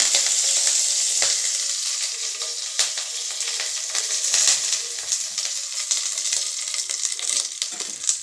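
Mustard seeds and curry leaves sizzling in hot oil for a tempering, a steady bright crackle with sharp pops and spatters throughout, close and fairly loud.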